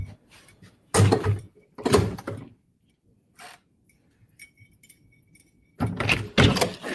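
A key jangles and works the lock of a hotel room door in several loud, close bursts of metallic rattling and clicking, with quieter ticks in between and no talk.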